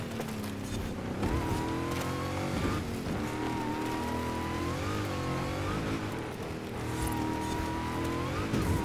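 Race cars in the Forza 5 video game roar continuously, engines revving and shifting as opponents overtake, with a brief tire squeal mixed into the dense, steady engine noise.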